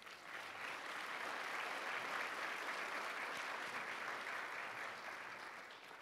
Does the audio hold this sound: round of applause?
yes